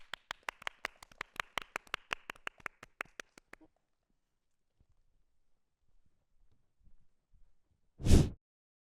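A crowd of new students at a school orientation event claps in quick, even rhythm for a few seconds, then falls silent before one loud burst of sound near the end.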